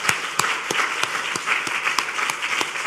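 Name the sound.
congregation applauding in church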